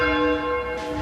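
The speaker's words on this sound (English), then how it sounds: "And the bell is now falling away from balance." A church tower bell rung full circle in change ringing sounds a single sustained strike, its bright metallic overtones ringing steadily and close, with no voices.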